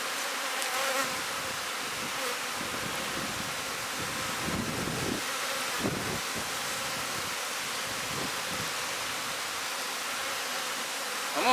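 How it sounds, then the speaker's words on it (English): Honey bees swarm around an open hive at a beekeeping cell-builder colony, their dense, steady buzz filling the air close by, with a few soft wind and handling bumps and no talk. "as you can tell, there's a lot of bees"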